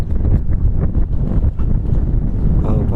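Strong wind gusts buffet the microphone at Kelavarapalli dam, where white chemical foam is blowing off the water, a loud continuous low rumble with no speech.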